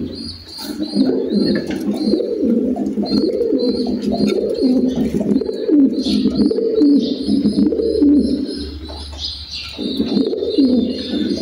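Domestic pigeons on a rooftop coo continuously in overlapping low, throaty phrases, close and fairly loud, with occasional chirps and a short pause near the end.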